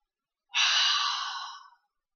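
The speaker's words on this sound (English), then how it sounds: "Breathe in again and tighten every muscle in your body." One long, close exhalation during a yoga session on a mat, breathy and sigh-like. It rises sharply and fades over about a second, with silence before and after.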